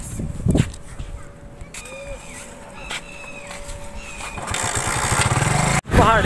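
A motorcycle engine starts and revs in a parking area in Shahkot, its rough, loud mechanical rumble building toward the end and then jumping in a sharp rev after a brief cut.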